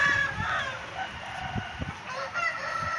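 Chickens cluck in short repeated bursts while a rooster crows over them, a close, busy farmyard mix of fowl calls filling the whole stretch.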